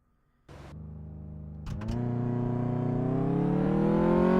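A car engine in Car Mechanic Simulator 2014 starts and its tone climbs steadily as it revs and accelerates, growing louder and whinier over a few seconds.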